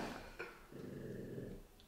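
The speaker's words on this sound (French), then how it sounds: "Tu vois, elle grogne tout ce qu'elle fait." An American Bully puppy growls in a low, continuous rumble, close and fairly loud, with a brief higher yelp-like sound early on and no talking.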